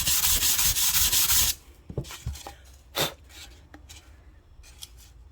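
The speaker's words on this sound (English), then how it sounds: "it kind of works like a sander, but it's a little rougher" A wire brush rasps hard against a wooden edge to distress it. A loud, steady scratchy scrubbing runs for over a second, then gives way to a few lighter scrapes and taps.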